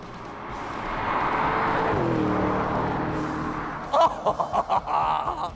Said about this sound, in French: le bruit quand t'es rétrograde